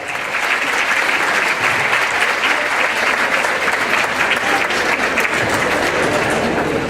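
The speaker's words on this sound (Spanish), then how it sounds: "Que se escuche más fuerte el aplauso," A conference audience at an international business administration congress applauds loudly and steadily after a talk, a thick, even wash of clapping filling the whole stretch.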